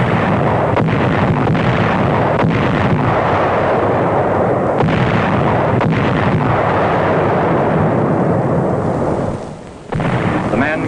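Battleships bombard Roi and Namur islands in World War II, a dense, continuous, loud rumble of heavy naval gunfire and explosions that dips briefly near the end.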